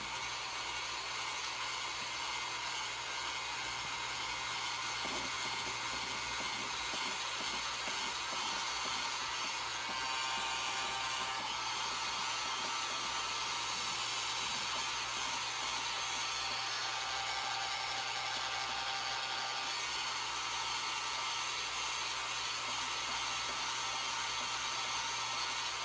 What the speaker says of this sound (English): So you want to take your hair dryer,